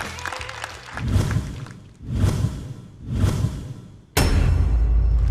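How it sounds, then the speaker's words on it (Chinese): A studio audience at a Chinese stand-up comedy show bursts into three swelling waves of applause for comedian Zhang Jun, then a sudden loud, sustained burst of clapping and cheering fills the room. "再次掌声送给张俊"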